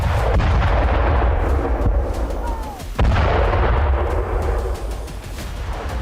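Heavy artillery fire in a Ukrainian strike on Russian army positions near Kharkiv, with loud, rumbling booms and a continuous roar of shelling, one sharp blast standing out midway; dense and close.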